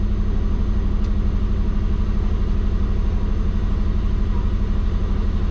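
A twin-turbo Subaru engine idles steadily at around 1400 rpm once warmed up, giving a loud, continuous, even pulsing drone close to the microphone with no talking.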